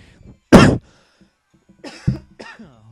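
A man coughs harshly once, then clears his throat and coughs again in a short, close fit of three bursts with quiet gaps between.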